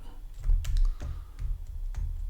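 Computer function keys pressed one after another, about five distinct clicky taps at an uneven pace, close and clear, with no talk.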